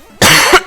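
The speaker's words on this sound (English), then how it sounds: "so I don't know why I'm coughing all of a sudden." A single sharp, loud cough bursts out close up, lasting about half a second and alone with no talk.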